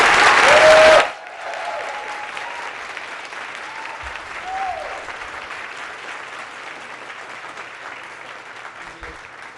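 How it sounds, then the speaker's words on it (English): An audience applauds the President and First Lady of the United States at a Virginia event with Governor Northam. A brief loud burst opens the clip, then steady, sustained clapping from a large crowd carries on, with faint voices underneath. "give a round of applause to the President and First Lady of the United States"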